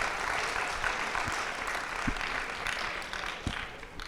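A high school audience at a Women's History Month assembly applauds student leaders, a sustained, fairly loud round of clapping with a few sharper thumps standing out now and then.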